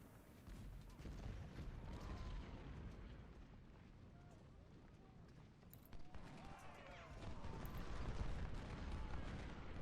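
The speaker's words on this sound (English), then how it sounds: "Yeah, the artillery should be hitting him with exploding shell." Exploding shells from a 24-pound howitzer thud in a Civil War battle in the game Ultimate General: Civil War, a dense rumble of overlapping blasts and distant firing that swells toward the end, with talk over it.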